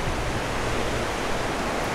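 The Vøringsfossen waterfall in Norway roars as a steady, broad rush of falling water, loud and unbroken throughout with no voices.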